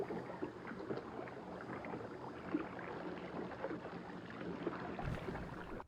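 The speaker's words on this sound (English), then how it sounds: "The rowing boat disappears into the foggy night." Gentle, continuous watery churning and lapping, like a small rowing boat moving through water, steady and moderately close with no voices.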